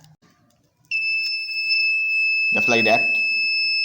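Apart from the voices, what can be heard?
phone security alarm buzzer sounding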